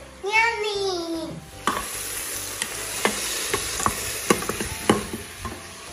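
Scallops frying in a pan alongside broccoli give a steady sizzle with a series of sharp clicks and scrapes from a utensil stirring, close by; a brief voice sounds at the start before the frying carries on alone.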